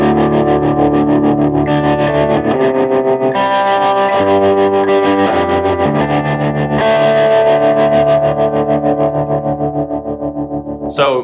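Overdriven electric guitar plays a gritty rhythm part with effects, steady and loud on its own, sustained chords shifting every couple of seconds before a final pick scrape, in the style of a worship rock song.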